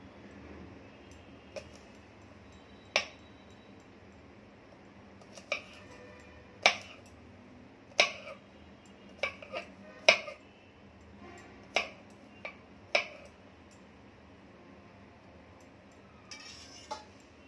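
A knife chops garlic and other ingredients for a mint chutney in a home kitchen, with sparse, sharp taps on the board separated by irregular pauses over a quiet background.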